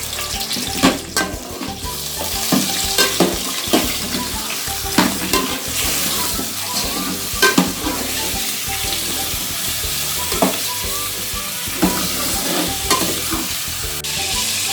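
Chicken karahi frying and being stirred in a pan, a steady loud sizzle with repeated scraping stir strokes and occasional utensil clinks, no voices.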